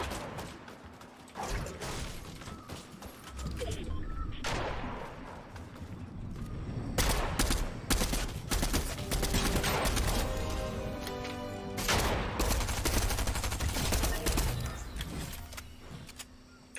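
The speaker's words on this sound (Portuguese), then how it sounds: "Tem gente atirando aí já." Gunfire in the video game Fortnite, repeated bursts of shots and mechanical clatter across the stretch, fairly loud and dense in the middle, with occasional talk from players.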